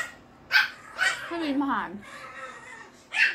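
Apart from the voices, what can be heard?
dogs barking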